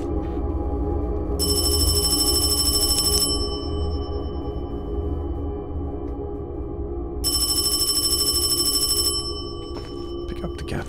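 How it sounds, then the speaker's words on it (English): A telephone rings in two long electronic bursts a few seconds apart, clear and close, over a low, constant hum in a quiet room, in a Hong Kong paranormal urban-legend setting. "damn phone"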